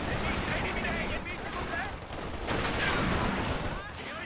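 Battle gunfire in the Company of Heroes 2 Ardennes Assault strategy game: a dense, continuous crackle of rifle and machine-gun shots with distant artillery, kept at a low level under spoken French commands.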